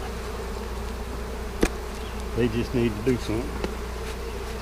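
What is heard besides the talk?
honey bees buzzing during a hive inspection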